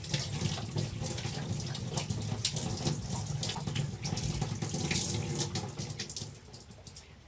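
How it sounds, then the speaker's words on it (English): Dirty water from a Bissell 3624 SpotClean carpet cleaner tank pours steadily into a sink, a continuous splashing gush that runs for several seconds with no talking. "I'm going to pour it into the sink."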